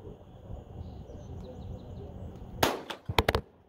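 Several sharp gunshots at an outdoor shooting range on a wet day, a quick cluster of cracks near the end after quiet, rainy-sounding background.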